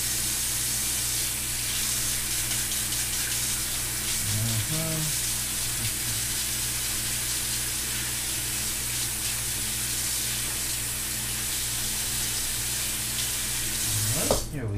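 A used kitchen knife is rinsed under a running tap while stuffed peppers are being made, giving a steady, close hiss of flowing water throughout with brief clinks near the sink and no talking.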